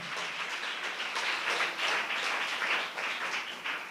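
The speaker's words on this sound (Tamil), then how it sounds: "நல்ல கைத்தட்டி தேவனை மகிமைப்படுத்துங்களேன்." A church congregation claps hands in worship, giving a continuous, moderately distant patter of applause with a gently rising and falling rhythm.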